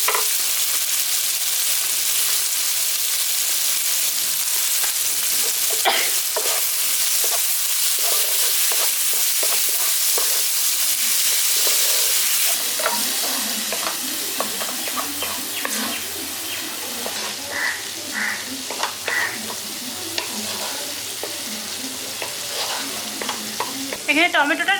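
Chopped tomato with salt fries in a pan for a spicy okra curry with poppy seed and mustard paste. A loud, constant sizzle is punctuated by scraping stirs, and the hiss shifts and softens midway.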